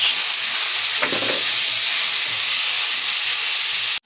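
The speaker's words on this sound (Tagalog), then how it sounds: "dahil mainit na yung mantika, ilagay ko na yung rekado" Tomatoes and vegetables sauté in hot cooking oil for a Filipino ginisang gulay, giving a loud, steady sizzling hiss with a brief stronger spatter burst early on, heard alone without talk.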